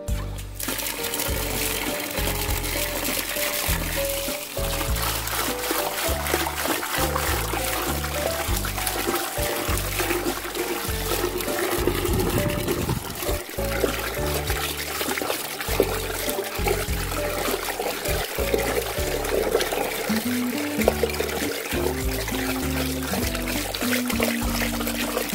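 An aquarium filter's media is rinsed in water during tank maintenance, giving steady sloshing, trickling and pouring sounds close by, continuous for the whole stretch.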